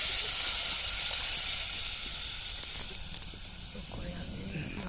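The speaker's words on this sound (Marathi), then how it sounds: "सगळ्या मसाल्यांमध्ये थोडंसं पाणी टाकून घ्यायचं" Water poured into frying spice masala with small fish, prawns and crabs, giving a loud hissing sizzle that slowly fades into a softer simmer with a few faint clinks.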